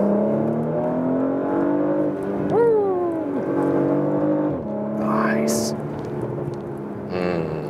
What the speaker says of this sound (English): And also like plop crackles from the exhaust.